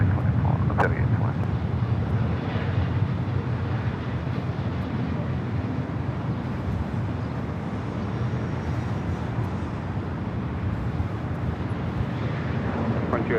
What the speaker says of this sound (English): Delta 2120 taking off to Las Vegas on the 737-800.